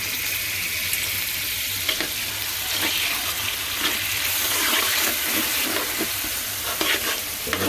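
Water poured a little at a time onto onions and turkey necks frying over an open fire, raising a loud, hissing sizzle that swells and crackles steadily, with occasional stirring scrapes and no voices.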